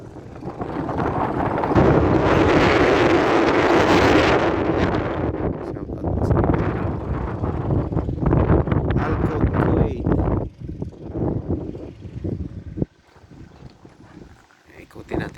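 Strong, cold wind gusts buffet the microphone at a fishing port with parked boats, a loud roaring rush that swells and fades with people talking underneath.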